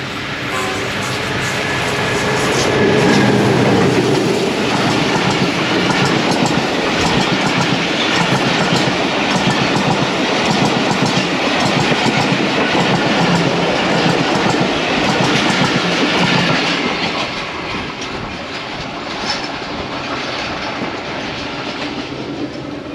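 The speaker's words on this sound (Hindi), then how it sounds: "ट्रेन आ चुकी है हज़ारा एक्सप्रेस।" Hazara Express train rolling past at close range, a loud continuous rumble with rhythmic clickety-clack of wheels over rail joints sustained throughout, no voices.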